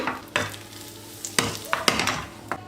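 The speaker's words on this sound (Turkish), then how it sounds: "Tereyağı iyice eridikten sonra bir tatlı kaşığı nane," Butter melting and sizzling in a pan as mint and chili are added, with a soft steady fry punctuated by several sharp clinks of a spoon against the pan, close and without talk.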